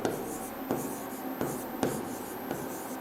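Marker or chalk writing on a board during a Hindi-medium English grammar lesson, with a few distinct strokes and taps spaced about every second, fairly close and moderately loud, and no talking.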